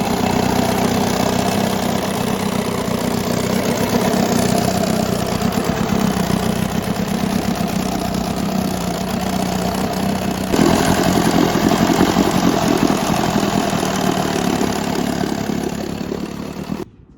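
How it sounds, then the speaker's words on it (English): A 1968 Johnson 9.5 HP outboard motor with a freshly adjusted throttle cam idles steadily and close, a loud, slightly uneven putter that picks up a touch in intensity partway through before cutting off at the end. "I got the throttle cam adjusted where it should be in time now. Hopefully there won't be much of a rough idle."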